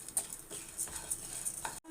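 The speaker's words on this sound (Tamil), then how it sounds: "இன்னும் கொஞ்சம் நேரம் வறுபடட்டும்." Idli podi ingredients being dry-roasted and stirred in a pan, with soft scraping and light crackle repeating in a loose rhythm, close and fairly quiet, ending in a brief silence.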